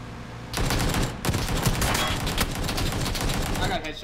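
Rapid video game gunfire crackles in a dense, continuous burst, loud and close, starting abruptly after a brief lull and running without pause until nearly the end.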